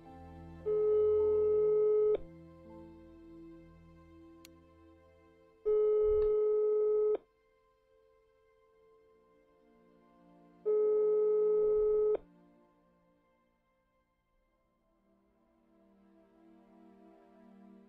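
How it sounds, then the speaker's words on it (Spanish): A mobile phone call rings out unanswered: three long, evenly spaced electronic ring tones, each about a second and a half, separated by quiet gaps, with faint background noise between them. "No lo coge. Si no lo coge a los dos tonos, es que está, no tiene el móvil encima."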